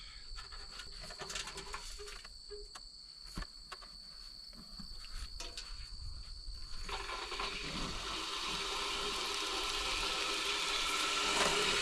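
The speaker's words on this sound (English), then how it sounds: "let's see if the float valve works" Water runs through a float valve into a tank on a small farm. It starts as faint trickles and drips, then becomes a steady rushing flow that slowly grows louder.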